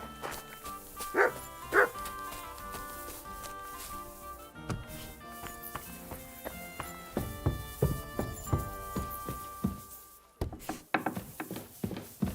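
A dog in Kingdom Come Deliverance 2 gives several short barks and yips over a medieval game soundscape with music and wooden knocks, moderately loud and not continuous.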